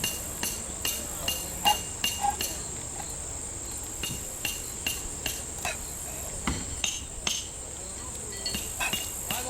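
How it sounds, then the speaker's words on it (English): Bayonet blade working its way around the rim of a tin can, heard as repeated sharp metallic clinks and taps at an irregular pace over a steady high insect-like background drone. "it'll kind of help get a nice, even, clean cut all around your can"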